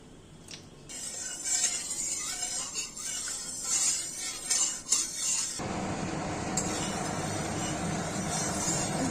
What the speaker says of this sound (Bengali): তেলটা চারিদিকে ছড়িয়ে দিচ্ছি